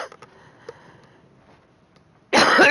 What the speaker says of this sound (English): I'll just get this coughing episode out and I'll be in.